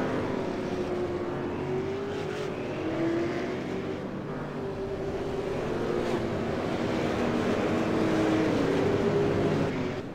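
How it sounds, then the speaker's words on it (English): Field of 31 Tundra trucks in a sim racing game pulling away at the start at Southern National Motorsports Park, a sustained droning engine roar rising in pitch and growing louder over time. "31 cars on the field here tonight as they pull away"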